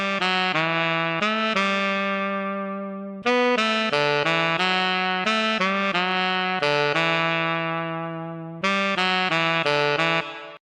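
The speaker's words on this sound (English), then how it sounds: "the fifth and final free saxophone that I have for you guys today is called DVS Saxophone" The free DVS Saxophone VST plugin plays a melodic line of sustained, reedy synthesized sax notes in short phrases with brief gaps, clear and alone at moderate volume.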